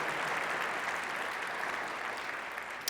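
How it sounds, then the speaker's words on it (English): Audience at a talk by Deion Sanders clapping, a broad steady wash of many hands at moderate level, continuous and slowly fading toward the end. "You got to give yourself an applause because you want it"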